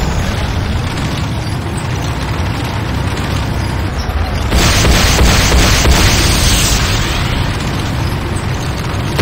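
A building blowing up in Command & Conquer Renegade, a dense, loud roaring blast that swells sharply partway through and rumbles on as a continuous wall of explosive noise.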